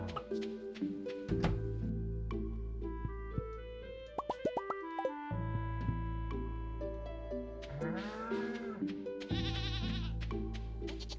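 Goats bleat in the Stardew Valley farming game, short cartoonish calls mixed with plopping interface effects over steady background game music.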